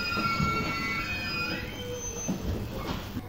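An IGR 7000 series train on a JR through service pulls into Kitakami station, heard from on board: a steady rolling rumble with high, drawn-out wheel squeals and brake whines as it slows, with no voices.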